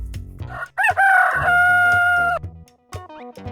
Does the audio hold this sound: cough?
no